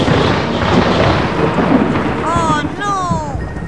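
A thunder and rain sound effect from a Romanian TV sitcom set in Miami, steady loud rainfall with a rumbling roll of thunder beneath, followed by a character's voice speaking over the storm.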